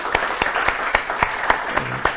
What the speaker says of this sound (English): I think it's time for us to give a round of applause to